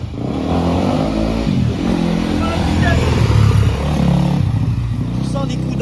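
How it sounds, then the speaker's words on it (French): A motorcycle engine runs loud and close, rumbling steadily with throttle blips and rising revs, while someone talks over it. "Alors, voici la moto."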